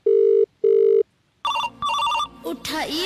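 A telephone rings in two loud, evenly spaced bursts, followed by a busier electronic ringtone-like melody with brief gaps, all fairly close and with no voices over it.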